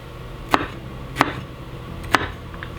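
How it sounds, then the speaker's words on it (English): A kitchen knife chops through a bell pepper on a cutting board, cutting it into quarters: three sharp, evenly spaced cuts land close and clear over a quiet room with no talk. "So I'm going to go ahead and cut the pepper into about 4."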